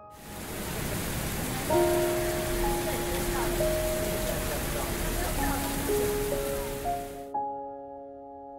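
Rain falling on a street in Ximending, Taipei, a dense, steady hiss of drops on wet pavement that cuts off near the end, leaving quiet with faint lingering tones.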